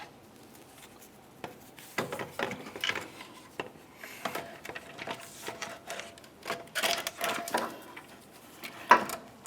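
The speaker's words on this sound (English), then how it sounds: "Carefully slide it in position, being extremely careful not to damage the fins on your radiator" Plastic radiator cooling fan shroud on a 2010-2013 Ford Transit Connect being slid into place, giving a string of close, quiet scrapes, knocks and clicks in irregular bursts.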